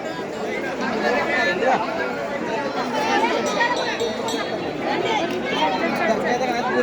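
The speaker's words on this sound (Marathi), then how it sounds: "हे बघ गर्दी भरपूर आहे." A packed throng at Jotiba temple keeps up a continuous hubbub of mingled voices, loud and close, steady from start to finish with no pauses.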